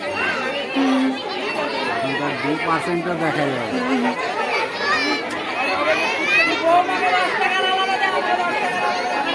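A dense crowd chatters at a picnic at the Kshepteshwari temple. Many adults and children talk over one another without a break, a steady hubbub with children's voices rising now and then.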